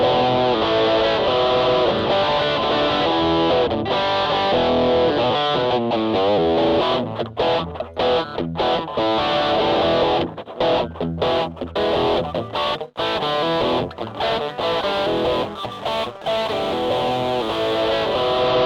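Heavily distorted electric guitar through a single-ended triode amplifier driven into Class AB distortion, playing sustained chords and riffs, loud and gritty throughout, with choppy stops toward the end.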